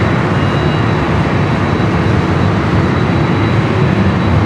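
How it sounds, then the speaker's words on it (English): A Boeing 787-9 Dreamliner airliner at LAX, on a flight bound for Paris, gives off a steady, loud, broadband jet roar that holds evenly without a break. "787-9 Dreamliner."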